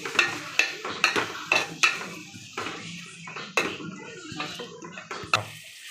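Tomatoes and onions being stirred in a curry pan for an Andhra-style chicken curry, with a spoon scraping and knocking against the pan in irregular strokes over a soft, faint sizzle.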